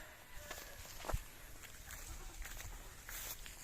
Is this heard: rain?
no